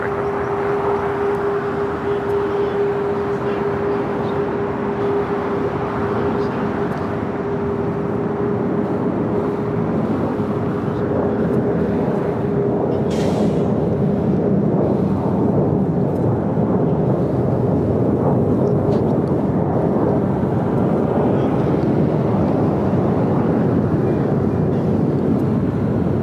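Jet airliner taking off from runway 25 right at LAX, a steady broad roar with a faint tonal whine that builds slightly louder as it goes, distant and continuous with no talk.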